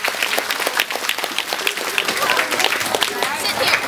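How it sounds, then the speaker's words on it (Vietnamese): Sustained applause from an audience at a community vegetarian fundraising dinner for flood relief, dense clapping filling the whole stretch with some voices mixed in underneath. "một tràng pháo tay."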